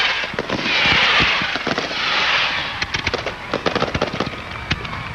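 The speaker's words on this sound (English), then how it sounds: "now the fireworks have started from the football practice field to our southeast" A fireworks display goes off over a football practice field at an outdoor opening ceremony in Grand Forks, North Dakota, with rapid crackling bursts and sharp pops at a steady distance, continuous and loud, with a broad hiss of crackle underneath.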